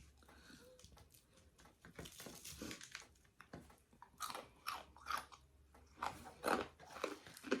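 Loud, crunchy bites into crispy Popeyes fried chicken, with irregular chewing crunches building toward the end and a faint voice in the background.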